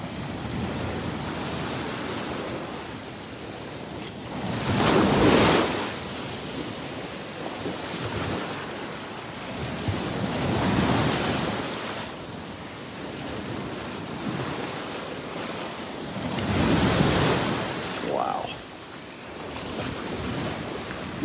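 Ocean waves crash onto the beach and into trees at Delnor-Wiggins, with big surges swelling and breaking every several seconds over constant wind and surf noise.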